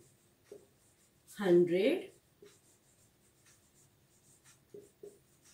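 A long multi-digit number is written out during a maths lesson, heard as a few light, sparse taps and strokes on a quiet background, with one short vocal sound partway through.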